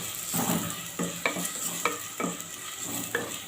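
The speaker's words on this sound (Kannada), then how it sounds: "ಅದನ್ನು ಚೆನ್ನಾಗಿ ನಾವು ಫ್ರೈ ಮಾಡ್ಕೋಬೇಕು" Finely chopped onions fry in a pan for a spicy Mangalorean mackerel curry, a steady close sizzle broken by four or five sharp scraping stirs of a spoon against the pan.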